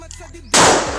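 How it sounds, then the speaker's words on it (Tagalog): A single loud, close gunshot bursts abruptly after a moment of quiet and then decays with a noisy echo. "Dan dalawang putok."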